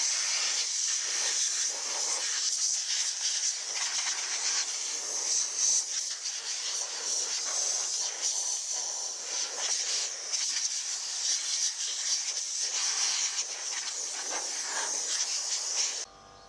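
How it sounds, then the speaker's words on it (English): A compressed air line blows dirt out of a large hover mower in a workshop, a steady loud hissing rush that runs without a break for about sixteen seconds. "I will just blow all that out with the compressed air line and make it all look nice and clean again"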